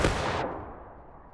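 A single loud musket volley in War of Rights, the Civil War-era multiplayer game, cracks sharply and then trails off in a long, rumbling echo that fades across the rest of the moment.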